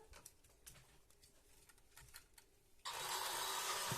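A toy model engine kit is switched on and runs, starting with soft clicks and taps, then a sudden steady whirring buzz that stays close and even.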